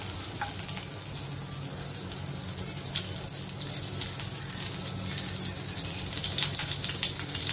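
Tandoori chicken legs fry in butter in a nonstick pan over medium heat, a continuous close sizzle and crackle with bright spits, steady and unbroken, with no voices.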